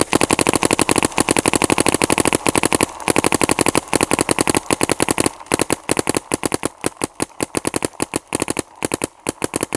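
Rapid bursts from a Planet Eclipse Etha 2 paintball marker, fired in quick strings of sharp, loud pops that run dense at first, then break into slightly spaced volleys toward the end, with no talking.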